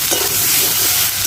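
Spices and soybeans sautéing in a pan in a village kitchen, a loud, close, steady sizzle with soft stirring scrapes, brief and without talk.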